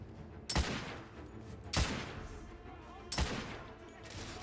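Three sharp carbine shots from a self-loading carbine in The Order: 1886, each a loud crack with a long reverberant tail, spaced roughly one to one and a half seconds apart.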